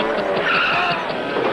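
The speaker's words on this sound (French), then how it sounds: "Il y a des bruits de frein, t'es sur le sable." Car brakes skidding on sand in a 1986 film, a short harsh screech of sliding tires over an engine, loud and close for under two seconds.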